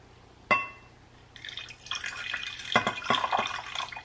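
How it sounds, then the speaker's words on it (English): Apple cider vinegar poured into an oil-based salad dressing, a single clink at the start followed by a few seconds of close, bubbling liquid trickle and splashing, with no voices. "Then we're gonna add in 1/4 cup of apple cider vinegar."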